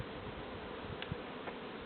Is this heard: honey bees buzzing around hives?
yes